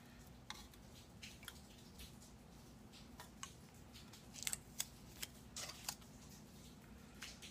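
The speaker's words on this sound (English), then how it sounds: "Now we'll just trace around it with a razor blade," A razor blade tracing and cutting material to size while wiring a mahogany guitar, a string of faint sharp snicks and clicks spread irregularly over a quiet hum, close up.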